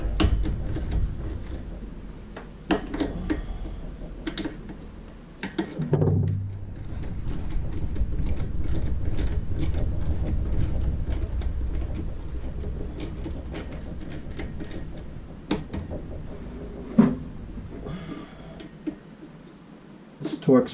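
A wrench clicks in scattered, irregular bursts while Torx bolts are tightened on a Husqvarna leaf blower under repair, the sharp close ticks mixed with clunks and handling noise, and a person talks throughout.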